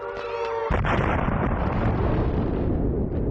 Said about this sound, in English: both sides test ever more powerful nuclear weapons